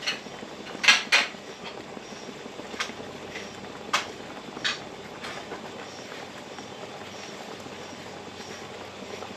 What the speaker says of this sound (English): putting the lids on the ones I've already made over here